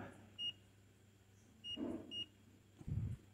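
A digital multimeter in buzzer continuity mode gives short, quiet beeps, three in the first half, among faint background noise and soft low thuds.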